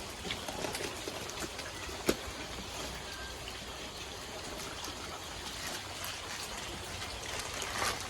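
Steady rain hisses across the whole stretch, with scattered sharper drip taps and one distinct knock near the start. It stays fairly faint and even, with no one speaking.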